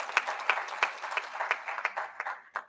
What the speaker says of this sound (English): A bigger clap for Dr.